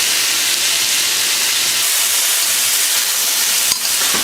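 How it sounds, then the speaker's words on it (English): Ginger sears in a hot pan for Chinese beef brisket, giving a loud, continuous, close sizzling hiss that stays steady throughout, with a faint clink near the end. "So give the ginger a good sear as well"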